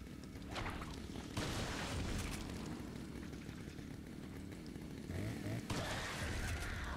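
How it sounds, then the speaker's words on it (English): Enemy chainsaw in the Resident Evil 4 video game buzzes and revs continuously at low level, with a few abrupt louder bursts and cuts, heard against game noise and no clear talk. "Even though they wield chainsaws"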